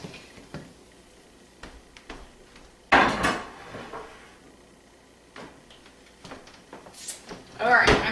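Kitchen clatter while cooking chili lime chicken salad: a pan is taken off the heat and a trivet is grabbed, giving a few sharp metallic knocks and rattles near by, with a voice talking quietly under the sounds.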